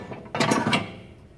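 A bolt is clamped down with a hand tool on the back of a Pro-Tilt tilt trailer kit, making a brief ratcheting mechanical click burst close by with no voices.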